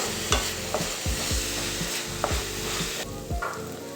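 Onions and mushrooms sautéing for mushroom gravy, a constant close sizzle broken by rhythmic scraping strokes of a spatula against the pan.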